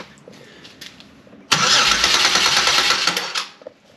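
A GM 3100 V6 from a 2005 Buick Century, pulled out of the car, cranks over in one loud, steady, churning burst of about two seconds, then winds down, with no talk.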